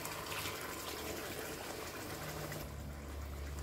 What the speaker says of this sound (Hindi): अब मैं इसमें शामिल करूंगी 1/2 कप पानी।